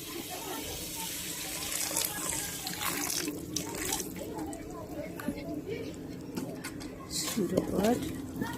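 A small amount of water goes into a cooking pot while a meat and rice dish is prepared, a soft running pour under continuous talk, with faint bird calls in the background.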